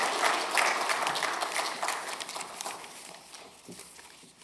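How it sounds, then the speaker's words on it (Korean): Church congregation applauding newly baptized members during a Sunday service, a broad wash of clapping that starts full and gradually thins and fades over a few seconds. "큰 박수로 이들을 축복해 주시기 바랍니다."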